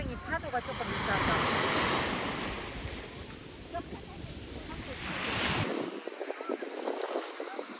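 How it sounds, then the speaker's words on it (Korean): Sea waves breaking at Yangyang on the Korean coast, a broad washing surf that swells, fades and surges again, mixed with wind buffeting the microphone and a few faint voices nearby. "양양이 파도가 조금 있어서."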